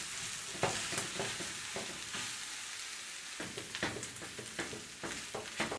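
Day-old cooked rice stir-fries in a hot pan for chaufa de pollo, a steady sizzle broken by repeated scraping and tossing strokes.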